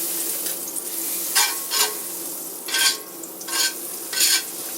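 Butter sizzles steadily in a hot cast iron pan, a continuous frying hiss punctuated by several louder bursts of stirring or spattering, close and without voices.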